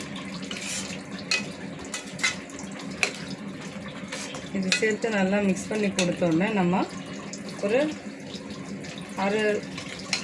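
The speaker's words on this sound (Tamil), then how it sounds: "2 கிளாஸ்க்கு அளவில் தண்ணி நம்ம மிக்ஸ் பண்ணிக்கலாம்" Water runs and splashes into a container in short streams while a person talks over it, with occasional clinks of a pot.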